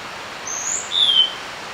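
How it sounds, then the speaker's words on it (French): Small bird chirping on an island, a few thin high-pitched calls in short bursts, faint over a steady background hiss with no talking. "Salut petit oiseau."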